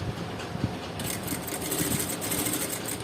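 A sewing machine runs steadily and close by, stitching blouse fabric for a halter neck blouse with an even mechanical whir and no talking.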